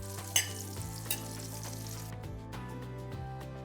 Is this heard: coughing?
no